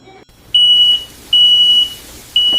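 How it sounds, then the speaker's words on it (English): A kitchen smoke alarm, set off by cooking smoke, gives loud, shrill, high-pitched beeps, three in a row, each about half a second long, with short gaps between them. "Gordon Ramsay doesn't set off the smoke alarm"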